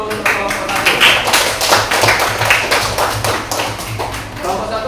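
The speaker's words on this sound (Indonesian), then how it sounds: "Silakan tepuk tangan dulu untuk kelompok 1." A classroom of students claps for a presenting group in a lively burst of applause, with dense, uneven hand claps filling the room and voices mixed in.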